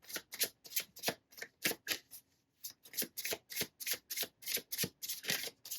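Tarot cards being shuffled by hand in a fast, regular run of crisp flicks and riffles that lasts several seconds. The shuffling is close and alone, with no voices.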